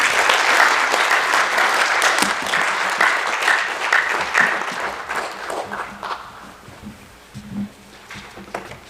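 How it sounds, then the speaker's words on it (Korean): A church mission forum audience breaks into loud, sustained applause that holds steady for several seconds, then gradually thins into scattered claps and quiet murmuring. "다시 한번 크게 박수로 진행하겠습니다"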